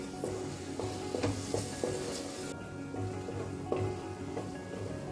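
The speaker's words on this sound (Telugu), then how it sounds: "ఇందులోకి 2 table spoon ginger garlic paste add చేసి ఈ పచ్చివాసన అంతా పోయే వరకు దీన్ని లో ఫ్లేమ్లో ఫ్రై చేయాలి" Ginger garlic paste fries in a pan over a low flame for a Telangana-style fish curry, giving a quiet, close sizzle broken by occasional stirring scrapes and light utensil clinks.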